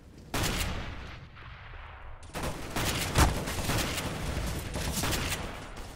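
Gunfire in CS:GO, with shotgun blasts among the shots: a quiet stretch, then a dense run of sharp, loud reports fired in quick succession, with no voices.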